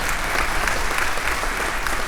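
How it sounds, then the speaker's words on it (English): An audience at a fraternity chapter chartering ceremony applauds, a steady, dense clapping from a crowd throughout the short moment. "Give him a round of applause."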